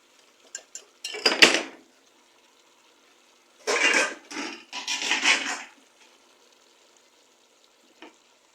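Chow mein vegetables, including carrots, onions and pak choy, are stirred in a hot pan, and several loud close bursts of sizzling and metal scraping are separated by quiet pauses, ending with one small clink.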